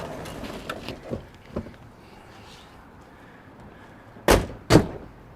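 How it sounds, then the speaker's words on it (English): Two solid thuds in quick succession near the end, a 1960s Ford Thunderbird car door shutting firmly, after a few softer knocks and quiet background. "The door closures on these are awesome."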